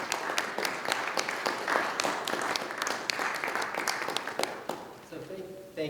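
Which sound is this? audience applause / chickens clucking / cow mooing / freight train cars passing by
audience applause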